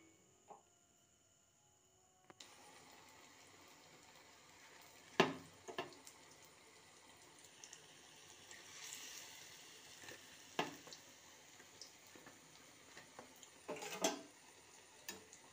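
Snacks frying in hot oil give a low, steady sizzle throughout, with occasional sharp crackles and pops. After a quiet start it builds, then runs as a continuous bed of noise.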